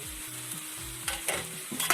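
Scrambled egg and prepared masala being stir-fried in a pan, with a steady low sizzle and spatula scrapes and clatters that grow sharper toward the end, no voices.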